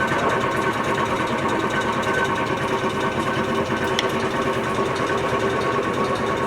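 A LeBlond sliding bed engine lathe runs steadily with its carriage riding on the half nut, giving off a continuous loud mechanical whir and rattle with no talking.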